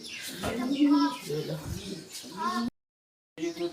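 Pigeons coo in soft, repeated bursts close by while people talk over them, and the sound drops out completely for a moment before resuming.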